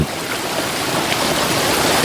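A river stream flows steadily, a loud, continuous rushing wash of water with no gaps and no voices, close and even for the whole stretch.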